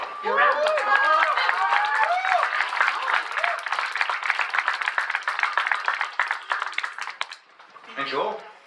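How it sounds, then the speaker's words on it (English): A crowd at a community event claps and cheers as a speaker is welcomed to the stage, dense steady applause mixed with voices and whoops, then tapering off into a brief voice at the end. "I just want to welcome Terry up to the stage with a big cheer and a hurrah. Your round of applause."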